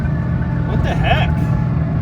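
A custom Saleen Mustang cruising along, its engine a steady low rumble and road drone heard from inside the cabin, with a person talking briefly over it.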